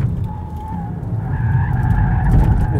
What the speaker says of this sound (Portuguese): eu vou tentando acelerar e ele vai querendo sair da pista